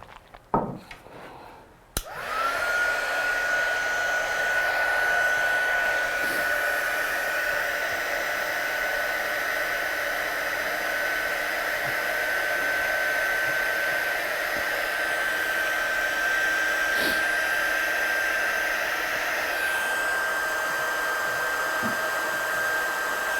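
A handheld heat dryer blows steadily over freshly stamped card artwork, a loud continuous whoosh that starts after a couple of small knocks and runs unbroken at a close, even level.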